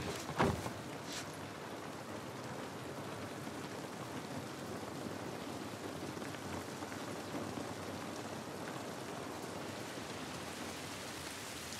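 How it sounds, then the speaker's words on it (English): Steady rain falls in the video game The Last of Us Part I, a continuous dense hiss of drops with a brief sharper burst near the start and no voices. "This rain ain't gonna do us any good"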